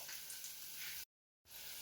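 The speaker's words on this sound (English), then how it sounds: "so now the meatballs are starting to cook" Meatballs frying in a pan give a steady, bright sizzle at moderate level, cut by a brief silent gap before the sizzling resumes.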